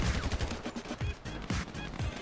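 Gunfire in GTA V Online during a rooftop deathmatch, a rapid burst of repeated shots popping close and loud in quick irregular succession.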